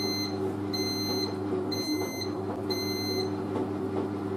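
A bread maker gives a series of repeated electronic beeps in a regular rhythm over a steady appliance hum, fairly close and clear, with no voices.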